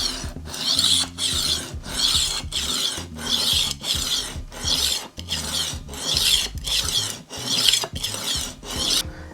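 A heavily dulled chef knife is drawn across a diamond sharpening stone in about a dozen steady, rhythmic rasping strokes, each a gritty scrape with short pauses between, close and clear with no talking.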